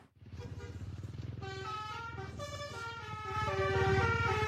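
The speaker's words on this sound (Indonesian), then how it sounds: "bus pariwisata yang membunyikan klakson telolet saat melintas sekolah" A tour bus telolet horn blares continuously over a low engine rumble as the bus passes through a residential street, its tones shifting and layering into a loud, melodic honking pattern.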